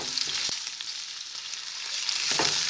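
A close, steady sizzle of onion and carrot frying in a pan, crackling hiss with a few soft clicks of stirring scattered through, no talking.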